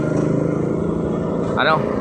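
A Honda Click scooter engine with a misfire runs steadily at close range, with a brief voice-like sound near the end.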